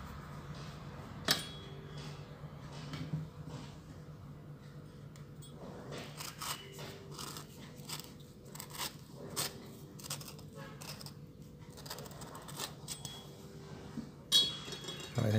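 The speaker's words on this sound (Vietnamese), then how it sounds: "Giờ phải mổ trái to này ra các bạn." A large Reed avocado being cut open with a knife: quiet scraping, tapping and clicking of the blade through the thick skin and flesh, scattered and irregular, with a sharp click near the end.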